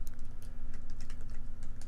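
Kotlin code is typed on a computer keyboard in a quick, steady run of close, crisp key clicks over a low constant hum, with no talking.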